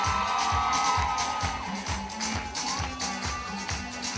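A crowd applauds at a master's graduation ceremony, with steady rhythmic clapping beating in unison under a broad wash of cheering and hall noise.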